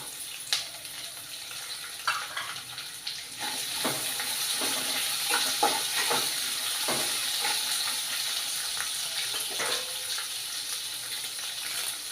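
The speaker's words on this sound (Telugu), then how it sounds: "ఇవి బ్రౌన్ కలర్ వచ్చినంత వరకు వేయించుకోవాలి." Onions and ginger pieces fry in a pan for rice upma, a steady sizzle with scattered stirring scrapes, close and continuous with no talk.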